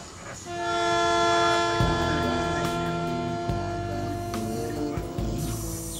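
Iron ore freight train rolling through the Carajas mine in the Amazon, a huge consist of 334 wagons, with sustained loud horn blasts over the steady rumble and clank of the cars passing nearby.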